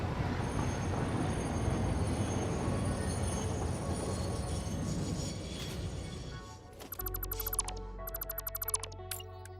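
Train running in the Satisfactory video game: a steady rolling rumble with rail clatter for several seconds, then it quiets and sharp, rhythmic metallic wheel squeals and clicks take over near the end.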